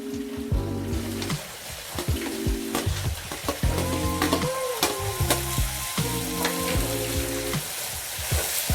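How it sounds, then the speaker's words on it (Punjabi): Red tomatoes and chilies sizzle and crackle loudly in a hot pan, with scraping and stirring sounds throughout and tonal music playing in the background. "ਸਾਡਾ ਤੜਕਾ ਜਿਹੜਾ ਹੈ ਜੀ ਚੰਗੀ ਤਰ੍ਹਾਂ ਭੁੱਜਦਾ ਪਿਆ ਹੈ ਜੀ"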